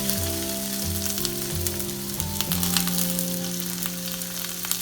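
Crushed garlic, shallots and curry leaves crackle and sizzle in hot coconut oil, a steady close frying hiss with light stirring and a faint tonal hum beneath, no one speaking.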